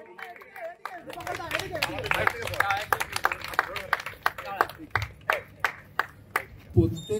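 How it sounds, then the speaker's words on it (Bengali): Audience at a production house picnic held at a resort clapping loudly, a burst of applause that thins into a steady run of single sharp claps, with chatter and someone speaking over it. "জোরে হাততালি হোক।"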